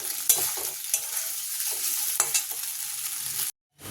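Boiled vegetables with spices, soy sauce and vinegar are stirred in a pan, giving soft scraping clinks of a spoon against the metal over a faint sizzle, then a short silence at the end.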